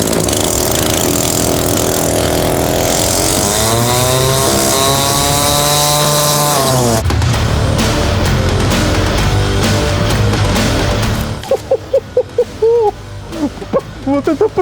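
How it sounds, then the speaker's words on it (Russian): A replica of the chainsaw shield platform from Doom running, its engine droning loud and climbing in pitch as it revs, then rougher chopping bursts toward the end. "Сейчас мы с помощью вот этой бензопильной щитоплатформы будем уничтожать"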